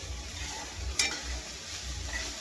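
Moth beans cooking in a pan for bhel, a steady low simmering sizzle with one sharp scrape of a spoon against the metal.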